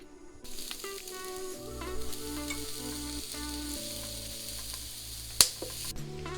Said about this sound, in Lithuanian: Kol daržovės kepa